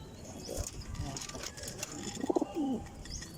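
Pigeons kept as breeders coo softly at close range, with a brief burst of low throaty calls near the end over faint rustling and background noise.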